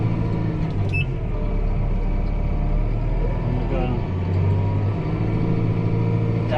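A tractor scrapes out the fronts of cattle sheds on a farm, its engine droning steadily and fairly close throughout, with faint scraping and clanking mixed into the rumble.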